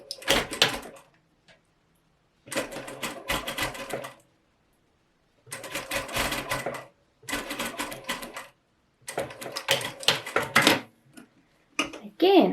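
A domestic sewing machine sews fabric for a top in several separate bursts of fast mechanical chatter, each a few seconds long, with quiet pauses between them.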